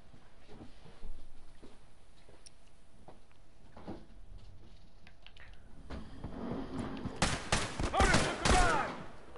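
Gunfire in The Last of Us multiplayer: quiet scattered clicks and faint talk give way near the end to a loud cluster of rapid shots, close and sharp.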